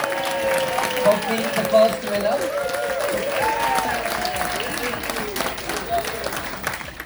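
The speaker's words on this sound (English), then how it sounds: "please give James a round of applause" An audience on the Emerald Princess cruise ship applauds a quiz winner, with a steady round of clapping running under a host speaking loudly over it.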